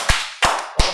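Three sharp, loud claps spaced evenly at a governor election debate, close and isolated with quiet gaps between them.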